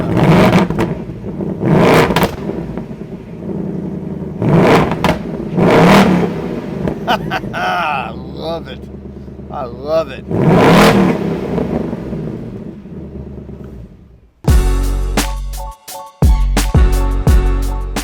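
A 2024 Ford Mustang GT V8 engine in track mode revs up and down in bursts, loud and close, with a person talking briefly over it; a deep exhaust rumble and brief clatter follow near the end.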